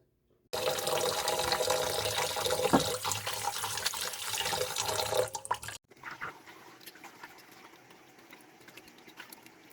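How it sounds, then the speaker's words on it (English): Running tap water splashes steadily into a sink for several seconds while sausage casing is washed inside and out, then cuts off, leaving softer drips and wet handling sounds. "Then we're going to wash it with fresh water in and out."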